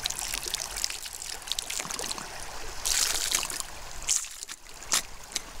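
A gold syringe draws up and squirts out water at a sluicing spot on an Arizona gold claim, giving faint close trickles, gurgles and short splashy spurts in uneven bursts, with no talk.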